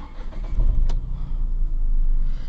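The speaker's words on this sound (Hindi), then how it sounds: "नॉर्मल गाड़ी को स्टार्ट कर लेते हैं" An ordinary car engine starts up, with a short cranking burst followed by a low, steady idle rumble close by, with no talking over it.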